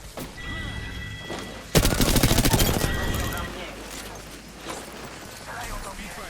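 Rapid bursts of automatic gunfire in the video game Apex Legends, a loud dense volley lasting about two seconds amid quieter game sounds, with players talking over it.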